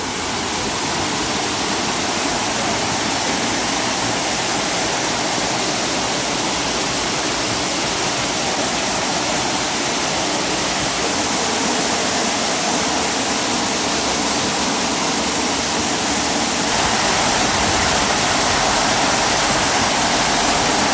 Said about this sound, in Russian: А это у нас водопад Прен.